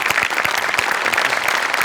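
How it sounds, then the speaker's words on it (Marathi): Steady, dense applause from a theatre audience at a Marathi comedy show, loud and close with rapid overlapping claps and no talking over it. "सचिन मोठ्यांसाठी भयंकर टाळ्या."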